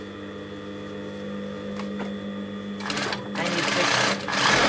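A sewing machine stitches fabric folded around piping cord in a steady mechanical whir, growing louder and busier toward the end, with a voice speaking briefly over it.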